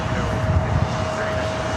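A Lufthansa Boeing 747 bound for Frankfurt begins its takeoff from runway 25 left at LAX, a brief, steady jet roar with a thin sustained whine on top.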